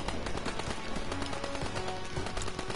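Machine gun fire in Call of Duty WWII during a defensive battle, a dense continuous rattle of rapid shots with overlapping gunfire throughout.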